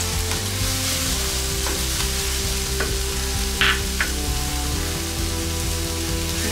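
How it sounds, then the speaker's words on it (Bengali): Ginger and garlic frying with spices in a pan, a loud steady close sizzle with a faint crackle and a couple of light scraping taps, no voices. "আমার আদা রসুন ভাজা হয়ে গেছে"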